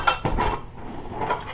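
Stainless steel camping plates and silverware clink and rattle together in a quick handled burst, several close, bright metallic knocks and scrapes at moderate loudness with no voices.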